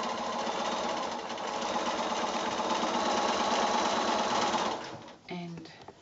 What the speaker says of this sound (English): So I'll just take these over to the machine here and stitch right along that line.